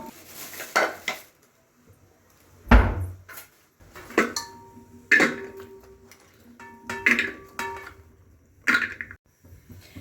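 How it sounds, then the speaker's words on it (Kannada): Peanuts and sweet potatoes go into a pressure cooker for a village harvest festival meal, with a string of clattering metal-on-metal clinks and knocks from pots and utensils, one heavier thud, spaced irregularly and close by, with no talking. "ಕಡಲೆಕಾಯಿ ಮತ್ತು ಗೆಣಸನ್ನ ಒಂದೇ ಕುಕ್ಕರ್ಗೆ ಇಕ್ತೀನಿ ಬೇಯಕ್ಕೆ."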